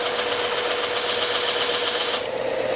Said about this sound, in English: I'm letting the grit of the belt do the work rather than me pressure it